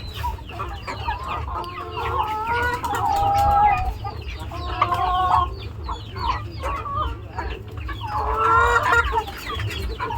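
Chickens cluck busily while pecking at feed, with repeated overlapping calls in bursts, close and fairly loud against a low background hum.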